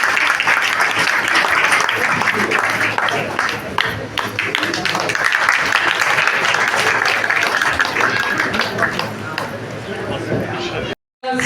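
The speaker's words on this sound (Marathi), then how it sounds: "टाळ्या जोरात टाळ्या असू द्या." At a senior citizens' association felicitation ceremony in Bhuigaon, the crowd applauds loudly and continuously for several seconds while a voice talks over the clapping, which cuts off abruptly near the end.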